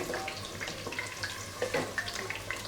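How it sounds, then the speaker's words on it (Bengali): Polao rice is rinsed under a running kitchen tap, with a faint continuous trickle of water and soft splashing from hands moving the grains. "পোলার চাল ধুয়ে রাখছি"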